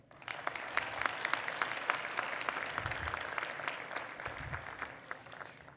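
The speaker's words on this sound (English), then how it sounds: "Please give all our researchers a big round of applause." An audience applauds researchers at a global student research conference at KFUPM, with a steady round of clapping from a hall crowd that holds evenly for several seconds.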